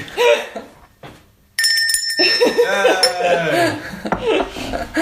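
A small bell rings out with a bright metallic shimmer amid laughter and lively talk, fading beneath the voices after a moment.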